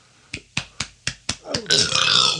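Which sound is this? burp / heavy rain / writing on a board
burp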